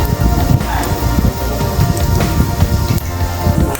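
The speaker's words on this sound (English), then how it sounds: "I saute the shrimp and pork until they're just cooked." Shrimp and pork for bánh xèo filling sizzle in a hot pan, a dense, continuous crackle and spatter close by.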